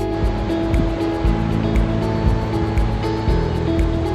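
Flowing water from the Colorado River, a continuous broad rushing wash of moderate loudness that stays steady through the stretch, with some low rumbling underneath and no speech.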